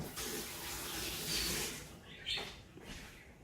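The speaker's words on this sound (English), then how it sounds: "Alright, wash your hands again." Tap water runs steadily into a kitchen sink during hand washing while home-made sausage rolls are prepared, a broad hiss that shifts and splashes as the hands move under the stream, with no talking.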